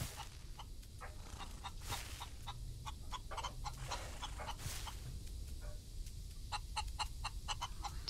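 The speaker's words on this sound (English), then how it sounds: "We have chickens." Chickens in the video game Outlaws of the Old West cluck and squawk repeatedly over a constant low background hum, the short calls coming in quick irregular bursts.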